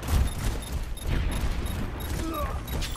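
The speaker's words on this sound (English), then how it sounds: "Mercy, stop shooting." Mercy shooting in an Overwatch match, a quick burst of overlapping gunfire shots among other battle noise and chimes, moderately loud amid a busy game mix with faint voices.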